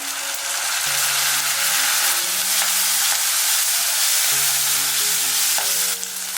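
Squid and shiitake mushrooms with aromatics, seasoned with pepper and soy sauce, are stir-fried in a wok, making a loud, continuous sizzle with scraping stirs, under light background music.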